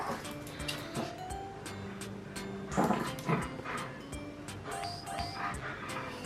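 A pet dog makes soft whimpers and small yips in a home, near and intermittent, over quiet household background with a few brief louder bursts.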